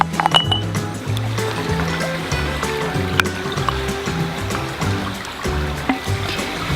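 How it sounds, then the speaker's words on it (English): Barbecue sauce poured from a cup into a pot of beans, bacon, onions and garlic at a campfire, a continuous low glugging pour with a few light clinks of the container against the pot's rim. "To this I'm going to add a cup of barbecue sauce"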